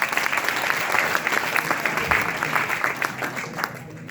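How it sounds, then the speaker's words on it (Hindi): An audience in a hall applauds steadily, with dense clapping at a constant level for the whole stretch. "तो एक तालियां हो जाए आप सभी के लिए।"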